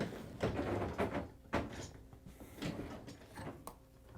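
A GE dishwasher is pulled out from under kitchen cabinets, giving a series of scraping, sliding and knocking sounds in uneven bursts, close by and moderately loud, with no talking.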